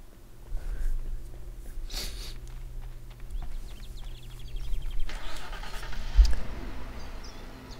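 A car drives in the video game Commandos 2, with a low engine rumble that swells and shifts and changes character partway through, alongside scattered game effects.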